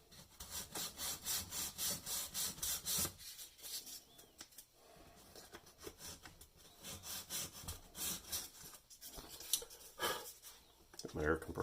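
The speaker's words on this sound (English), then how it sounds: "Let me take a little piece of sandpaper here, see if we can clean out the crack" Sandpaper is rubbed back and forth over a crack in an AirKing 4000A wooden radio cabinet, a rhythmic rasping at first, then pauses and irregular shorter scrubbing strokes, fairly close.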